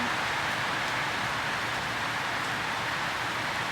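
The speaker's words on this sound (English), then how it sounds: "It's raining right now." Steady rain falling outside, an even, continuous hiss with no breaks, fairly quiet and with no one talking.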